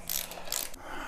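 Parts being tightened down on a 40 hp air-cooled Volkswagen engine during a rebuild, giving a brief close mechanical ratcheting with two bright bursts of clicking, and no talking.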